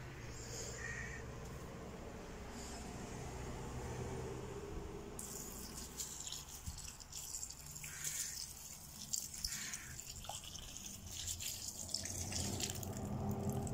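Water is poured onto a flowering garden plant during a day of outdoor chores. Soft trickling is followed midway by a hissing, splashing stream, with insects chirping faintly in the background.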